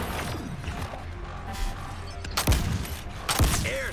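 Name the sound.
airstrike in video game Suicide Squad: Kill the Justice League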